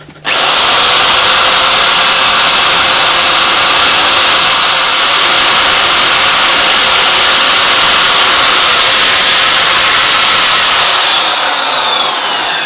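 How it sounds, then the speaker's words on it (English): A rotary power tool with a pointed bit carving fine fin details into walnut wood, a loud, steady high-pitched whine running without pause for several seconds before winding down. "I'm going to change over the drill bits now from this rounder one to a more pointed one"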